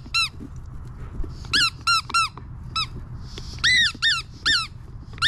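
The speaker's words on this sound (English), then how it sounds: "go squeak it. Squeak, squeak, squeak." A squeaky dog toy squeaked over and over in short, sharp, high-pitched bursts, some single and some in quick pairs or triples, loud and close against a quiet background.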